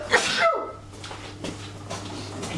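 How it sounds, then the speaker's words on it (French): A single sharp sneeze bursts out close at the start, followed by quiet rustling and faint breathy sounds. "Puis je vais éternuer."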